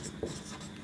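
A pen or pencil scratches briefly and faintly across paper during a math lesson, a short soft stroke or two.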